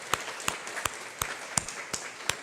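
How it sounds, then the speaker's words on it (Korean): A small church congregation at a Sunday service claps in a slow, sparse beat, roughly seven distinct claps spaced evenly apart over a quiet room. "박수 한번 하겠습니다"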